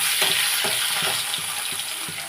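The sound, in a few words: fish frying in a little oil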